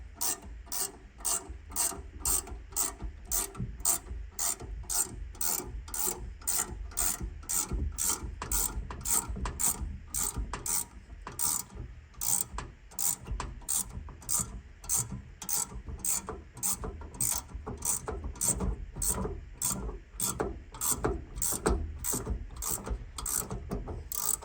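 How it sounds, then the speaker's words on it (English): A ratchet wrench clicks in a fast, steady stream of sharp metallic ticks while working on the door hinge of a first-generation Chevrolet S10 truck, close and continuous throughout with no talking. "I'm going to use a ratchet wrench for the sake of YouTube time."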